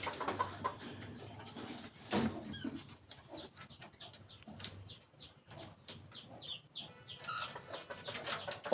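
Lutino pet birds chirping and clucking inside a cage fitted with a small wooden breeding box and nesting material, calls scattered and fairly close over a steady background.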